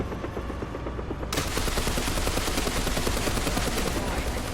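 Rapid sustained bursts from an M240 general-purpose machine gun mounted on the roof of a Challenger 1 Mk.3 tank in War Thunder, loud and continuous after a short quieter opening, with dense overlapping shots.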